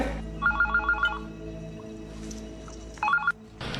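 A telephone rings twice during a call in a Hindi drama scene, each a short burst of rapid warbling trills with a pause between, over a low steady background hum.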